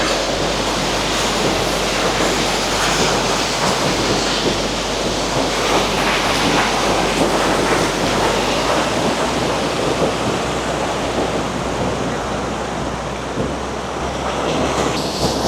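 A hidden waterfall near Timure village on the Nepal-China border pours in a dense, steady roar of falling water that stays loud and unbroken throughout, with no talking.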